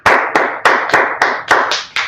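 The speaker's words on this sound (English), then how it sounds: "Let's clap it up." A handful of people clap in unison during a history class, about eight sharp, evenly spaced claps in a steady rhythm, loud and close.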